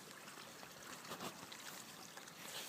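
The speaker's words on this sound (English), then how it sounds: "This is the stream, the brook I'll be getting the water from." A mountain brook on a hiking trail in the Moosilauke and Kinsman Ridge area flows steadily in a soft, continuous broadband rush and trickle, fairly faint and close, with no voices.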